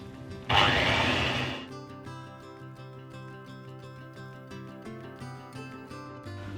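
An electric hand mixer creams butter and brown sugar for walnut and berry cookies, starting with a loud, dense whirring burst that settles into a steadier, quieter hum with faint rattling, close by and without talk.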